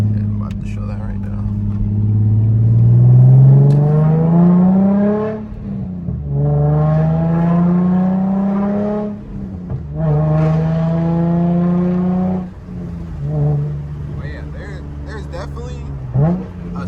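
Car engine revving through a Tomei exhaust from Japan, several long rising and falling pulls with a deep, harmonic drone close up, separated by brief drops, with a voice talking at times.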